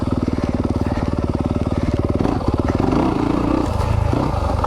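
A 2020 Yamaha YZ250FX dirt bike ridden on a trail, its engine loud and close with a rapid, steady pulsing drone that shifts pitch as the throttle changes, with rattles and scrapes from the terrain.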